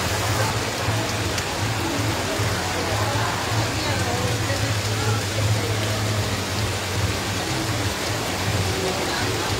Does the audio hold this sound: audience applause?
no